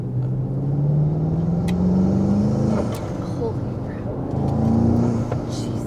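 A BMW X5M engine revs up with a deep rising drone, eases off, then climbs again, loud and close.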